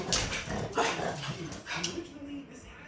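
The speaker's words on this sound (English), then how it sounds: "Anytime somebody goes to leave the house, he freaks out. He's barking." A very anxious, high-strung dog barks and yips in agitated bursts as someone heads out of the house, close and loud, with a person talking alongside.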